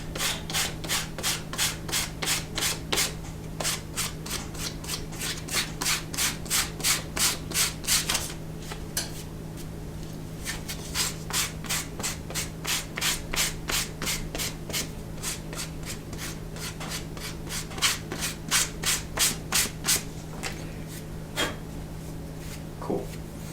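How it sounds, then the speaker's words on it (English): Sandpaper rubbing back and forth over the edge of a leather wallet shell, a steady run of quick, close rasping strokes in short bursts with brief pauses between them. "we're going to take some sandpaper, make sure, and just go over a little bit"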